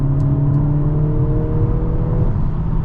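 A 2023 Mercedes-AMG GLA 45 engine with the exhaust mode switched off, a steady, fairly loud low engine drone with faint whirring tones, heard from inside the cabin without any talk.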